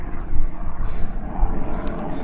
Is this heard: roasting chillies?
no